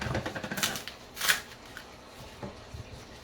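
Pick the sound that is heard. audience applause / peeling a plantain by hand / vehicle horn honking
peeling a plantain by hand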